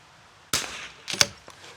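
A Vudoo Three 60 rifle fires at an outdoor target range: one sharp, close report, then a second fainter crack about half a second later, with a faint tick after that against quiet background noise.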